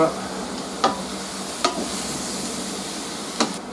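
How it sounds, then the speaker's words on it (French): Steady frying sizzle in a saucepan with a few sharp clacks of a utensil against the pan as vegetables are stirred, close by and without speech. "Et on rajoute dans la casserole. Voilà. On mélange."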